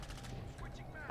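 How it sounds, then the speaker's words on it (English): Rapid bursts of gunfire in a Call of Duty online match, fairly quiet and continuous through the brief moment, with a voice faintly audible underneath. "Saw gunfire from the roof."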